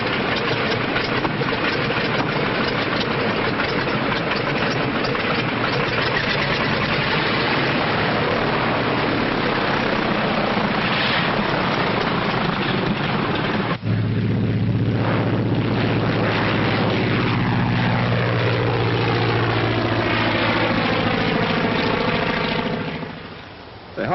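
A propeller airplane drones loudly and steadily in a 1939 aviation film soundtrack, the engine tone shifting partway through as if passing or changing pitch, then fading briefly at the end.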